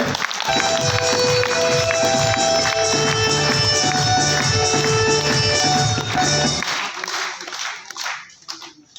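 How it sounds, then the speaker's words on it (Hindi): Audience members at an RCM business meeting clap loudly over ringing music, the steady applause running for about seven seconds before it quickly thins out and fades. "तो जोरदार तालियां इन लोगों के लिए"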